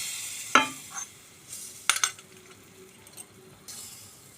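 A spoon stirring a tempering into a pointed gourd curry in a pan, with sharp clinks against the pan at intervals over a faint, low sizzle, close and without talk.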